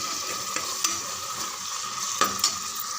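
Ripe tomatoes sauté in a pan with curry leaves, giving a steady sizzle broken by a few sharp scrapes and clinks as the mix is stirred. It sounds close and continuous, with no voices.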